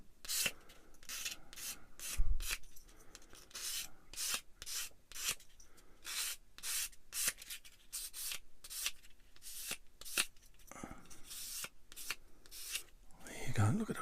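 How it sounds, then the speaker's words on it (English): Light sanding on a small plastic model kit part for a cat head assembly: a run of quick, rhythmic rubbing strokes, close and fairly soft, with brief pauses between bursts. "A little bit of a light sand."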